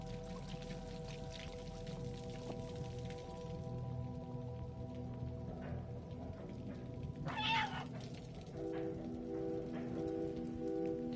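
Cat meows in the video game Stray, a short clear meow rising over steady rain-like game ambience and low humming background tones.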